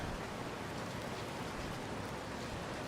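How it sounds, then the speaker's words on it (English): Steady rainfall in the GodSIM video game, a continuous even hiss of falling rain with no break, moderately quiet and without voices. "Raining again."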